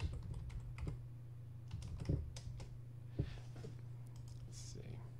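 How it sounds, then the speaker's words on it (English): Keys on a computer keyboard tapped in quick irregular bursts as a response is typed, fairly close and quiet over a steady low hum, with a few louder clicks. "right here you just type in"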